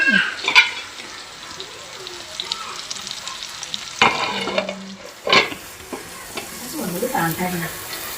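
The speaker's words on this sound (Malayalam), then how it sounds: "ഇതേ തെറിക്കുന്നുട്ടോ ഒന്നൊന്ന് പൊന്തി" Stuffed squid frying in a covered pan, a constant oily sizzle broken by several sharp pops and splatters, with occasional stirring and light talk nearby.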